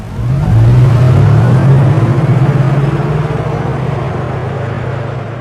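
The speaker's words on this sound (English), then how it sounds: "we will delight you with the very emotional G-Class specific driving sound for this all-electric model" A loud, synthetic engine-like drone from a 2025 Mercedes G580 electric SUV's artificial driving sound swells and rises in pitch as it accelerates, then settles into a steady whirring hum.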